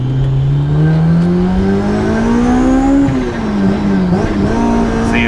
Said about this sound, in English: There's a combination of the supercharger whine and then of course the exhaust.